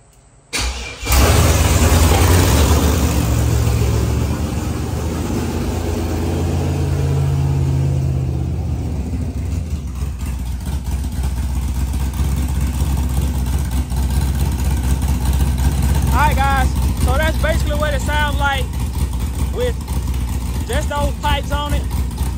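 A car fitted with cheap aftermarket mufflers from Amazon cranks over and fires up, then settles into a loud, rough, rumbling idle that fills the whole stretch, with a voice speaking over the engine.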